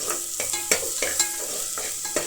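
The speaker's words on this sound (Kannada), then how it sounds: "ಈರುಳ್ಳಿ ಕಲರು ಮೆಣಸಿನ್ಕಾಯಿ ಕಲರ್ ಸ್ವಲ್ಪ ಈ ಫ್ರೈ ಮಾಡಿದಾಗ ಒಂದು ಕಲರ್ ಬರುತ್ತೆ, ಲೈಟ್ ಬ್ರೌನ್ ಕಲರ್ ಥರ" Onion and green chillies frying in a pan for bele sambar, a steady close sizzle broken by several sharp scraping stirs of a spatula at irregular intervals.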